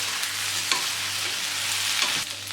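Green beans and potatoes being sautéed in a pan, with a continuous close sizzle and soft stirring scrapes throughout.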